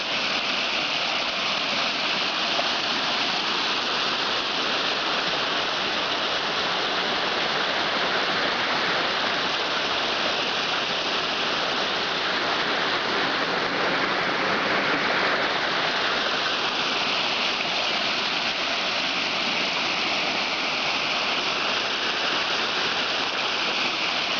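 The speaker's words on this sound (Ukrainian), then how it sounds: "А це от Манявський так званий верхній такий водоспадик." The small upper Maniava waterfall pours with a steady, dense rushing roar that never lets up, close by and with no talking.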